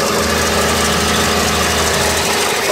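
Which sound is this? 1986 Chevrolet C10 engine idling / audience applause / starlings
1986 Chevrolet C10 engine idling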